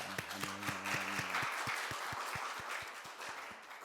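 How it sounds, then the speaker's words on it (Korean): A church congregation claps in praise, quiet and somewhat distant, with rhythmic low thumps through it. "우리 살아계신 하나님께 감사와 찬양과 영광의 박수 올려드리겠습니다"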